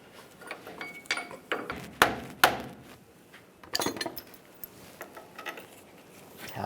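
Metal tapping and clinking as a stub shaft is knocked into place on a 2007-2013 Chevrolet Silverado 1500, several sharp irregular knocks close by in a quiet workshop.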